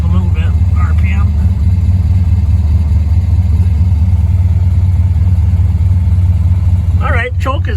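A small engine settles into an even, steady idle at about 1,000 RPM once the choke is off, close and loud throughout, with a person talking over it.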